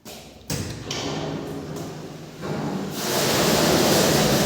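Water flows from one tank into the next at a sewage treatment plant, a broad steady rushing roar that swells in stages, growing louder and fuller toward the end, with no voices.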